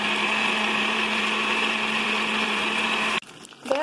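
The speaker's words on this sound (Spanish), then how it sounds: "Para que se muela le vamos a poner caldo del mismo que" A kitchen blender grinding garlic, pepper, clove and cumin with meat broth, running as a loud steady whir for about three seconds before cutting off abruptly, followed by brief clatter.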